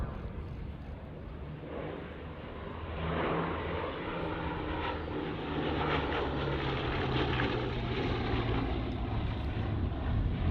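A Bristol Blenheim flies at the Duxford Battle of Britain airshow, its piston engine drone steady and distant, swelling slightly louder partway through.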